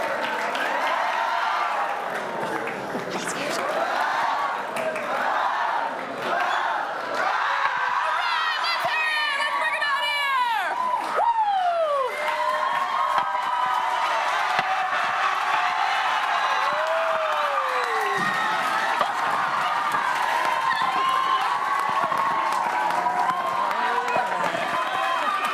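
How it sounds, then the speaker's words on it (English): A main-stage show audience cheers and applauds on cue, a dense wash of clapping, whoops and crowd chatter sustained throughout, loud and close. "If we were to hit like a 5, what would that sound like in your enthusiasm and applause?"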